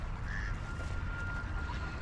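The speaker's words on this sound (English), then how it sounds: "There's like a bunch of ducks and ice." Ducks gathered on ice honking and quacking in a few faint, distant calls over a steady outdoor rumble, with no voices.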